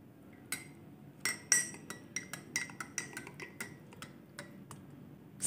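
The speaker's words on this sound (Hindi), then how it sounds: "हल्दी प्लस मुल्तानी मिट्टी पाउडर को दूध में अच्छे से मिक्स कर लेना है" A spoon stirring turmeric and multani mitti powder into milk, with a quick run of light metallic clinks and taps against the bowl at an uneven rhythm, close and fairly quiet.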